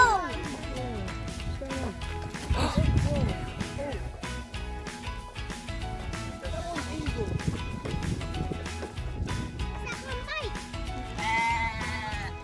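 Several sheep bleat in wavering calls, some near and loud, others farther off, with people talking and moving around them.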